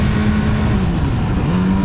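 Kawasaki Z900RS SE motorcycle engine pulling hard under acceleration, a loud close steady drone with a rising tonal whine and rumble, heard alone without talk.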